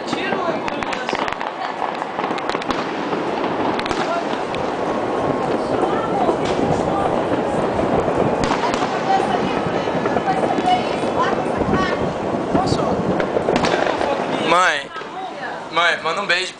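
Dense, continuous crackling and popping of New Year's Eve fireworks bursting at a distance, with voices chattering throughout and a few sharper bangs near the end.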